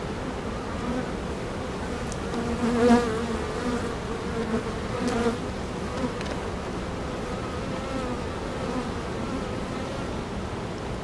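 Honeybees swarm and buzz around an open backyard beehive during a frame inspection, a steady close droning hum with brief louder swells as bees pass near, no talking.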